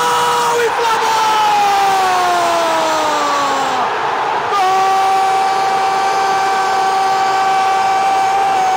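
Crowd noise fills a stadium after a Flamengo goal against Fluminense in the Copa do Brasil round of 16, sustained and loud throughout, with long whistle-like tones gliding over it and a brief dip partway through.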